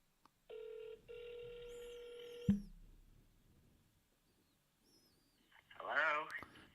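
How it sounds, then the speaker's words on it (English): Telephone ringback tone of an outgoing call, a steady tone held for about two seconds, then quiet line hiss before a louder burst of voice near the end. "Time to make a phone call."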